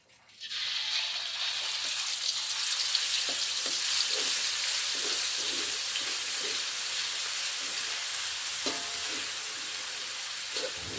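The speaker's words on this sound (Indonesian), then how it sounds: "Lanjut siapkan wajan untuk menumis, beri minyak secukupnya untuk menumis bumbu." Loud, constant sizzling of spices frying in hot oil in a wok, with occasional soft clinks of stirring in the pan throughout.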